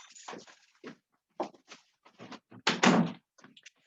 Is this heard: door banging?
yes